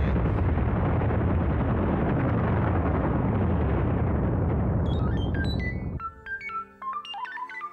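A long, roaring sci-fi uranium cannon blast in a radio comedy sketch rumbles loudly for several seconds, then cuts off into scattered high electronic beeps and tones.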